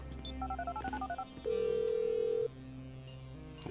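A phone in GTA 5 dials with a quick run of beeping keypad tones, followed by a steady ringback tone lasting about a second and then quieter game ambience.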